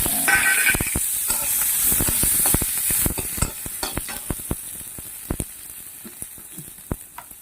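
Ginger garlic paste, chilli and onion fry in oil in a wok, opening with a loud sizzle that eases into a quieter crackle punctuated by sharp spatula taps and scrapes.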